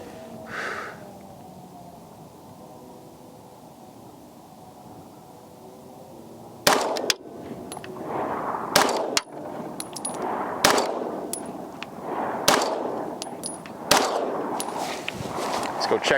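A Dan Wesson DWX pistol fired at a target outdoors: after several seconds of quiet, about seven loud, sharp shots ring out at irregular intervals over roughly nine seconds.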